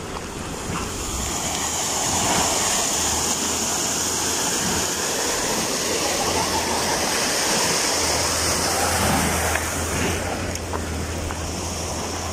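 River water flowing on Mount Nagpatong in Maragondon, Cavite, a steady broadband rush with light wind buffeting the microphone, continuous and even throughout with no talking.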